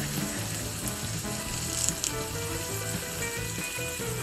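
Onions and curry leaves sauté in a pan for a drumstick and egg thoran, giving a close, steady sizzle and crackle with a couple of faint clinks from the utensil and no talk.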